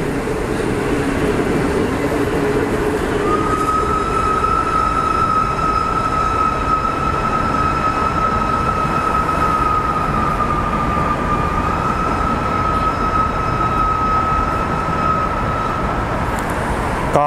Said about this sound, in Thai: ก็ผ่านสถานีรถไฟหลัก4นะครับเป็นที่เรียบร้อย